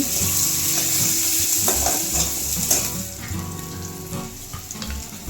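Small onions and curry leaves fry in a hot pan for a Tamil mochai kottai kulambu, giving a steady close sizzle with brief stirring scrapes and no talking.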